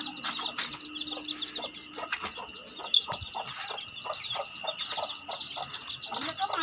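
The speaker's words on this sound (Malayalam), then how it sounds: "കോഴിക്കുട്ടികൾ" Young chicks cheep steadily at close range, their rapid, high peeping chirps overlapping throughout, with a steady faint hum in the background.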